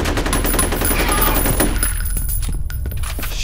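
Rapid bursts of enemy gunfire in the first-person shooter game F.E.A.R., loud and dense with sharp crackling shots and rattling impacts, then thinning into scattered individual reports near the end.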